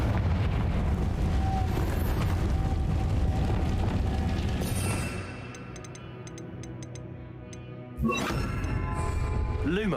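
A Confringo fire spell detonates in Hogwarts Legacy, a loud rumbling blast that fills the opening seconds, falls to a quieter crackling tail, then a second sharp burst strikes near the end.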